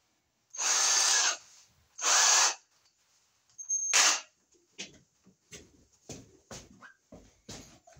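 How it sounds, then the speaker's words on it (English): A power drill bores a hole for an old work box wiring job in three loud, close whirring bursts, followed by a string of sharp knocks and clicks. "Okay, so now we'll go up and drill our hole."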